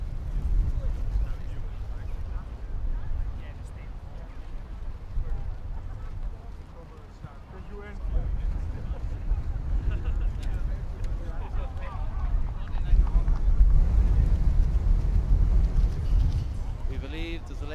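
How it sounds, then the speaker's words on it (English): Strong wind gusting across a Gaelic football pitch in Clydebank, a steady low rumbling buffet on the microphone that swells and eases, loudest toward the end. "it's very, very windy here in Clydebank"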